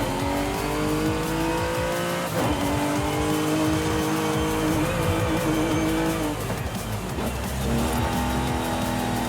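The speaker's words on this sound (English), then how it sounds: "I think it's partly because it sounds quite race car to me," Race car in Forza Horizon 5 with a loud, continuous engine roar that revs and shifts gears, with occasional tire squeal, close and with no talking.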